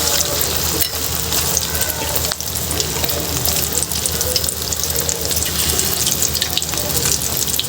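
Spoonfuls of chicken pakora batter fry in oil over a normal flame, making a loud, dense, continuous bubbling sizzle that holds steady throughout.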